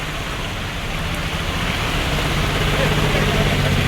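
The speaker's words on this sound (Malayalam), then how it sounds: "നല്ല വെള്ളം, നല്ല അടാറ് മഴയാണ്" Heavy monsoon rain pours down on Villiappally town, a dense, steady hiss and roar of water that holds unbroken throughout and grows slightly stronger near the end.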